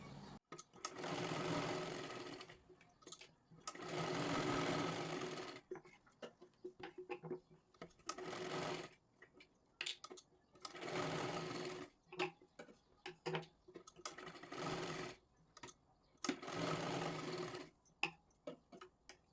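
A sewing machine stitches tucks on a blouse in five or six close, loud bursts of rapid whirring, each lasting a couple of seconds and separated by brief pauses filled with soft handling clicks.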